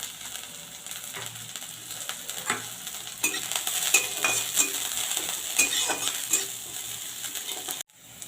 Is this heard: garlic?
yes